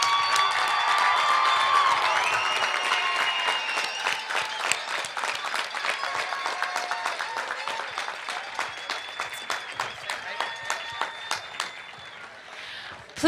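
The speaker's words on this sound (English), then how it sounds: "Let's give this graduating class a huge round of applause." Graduating class at a high school commencement receives applause from a large crowd: dense, sustained clapping that slowly thins into scattered individual claps before fading out, with faint cheers early on.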